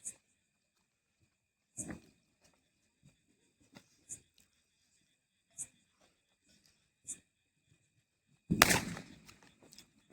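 Diwali firecrackers bursting outdoors near a canal, sharp isolated bangs spaced a second or two apart amid quiet, ending in a bigger, louder burst.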